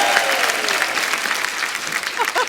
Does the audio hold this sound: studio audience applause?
yes